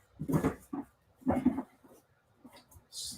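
Dogs making soft whimpers and whines in a few short bursts near the microphone, with quiet gaps between and a faint higher cry at the end.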